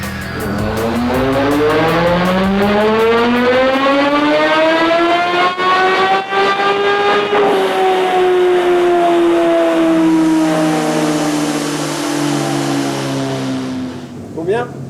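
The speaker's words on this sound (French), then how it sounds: "Il faut maintenant régler la moto au banc pour voir ce que ça donne en puissance et en couple." A Kawasaki ZH2 motorcycle engine on a dynamometer revs steadily higher under load for several seconds, then holds and eases slightly before cutting off, loud and close.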